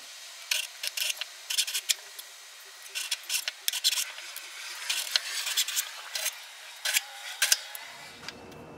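A saw cuts fret notches into the wooden neck of a cigar box guitar, rasping in short, repeated bursts of strokes with brief pauses between them, close and fairly quiet, with no talking.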